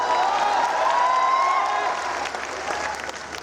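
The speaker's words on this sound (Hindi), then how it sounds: "ताली बजाओ, ताली बजाओ।" An audience at a Hindi comic poetry gathering (kavi sammelan) in Naimisharanya bursts into steady, dense applause that fades slightly toward the end, with some crowd noise and voices underneath.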